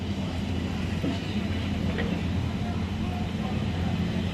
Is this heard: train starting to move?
yes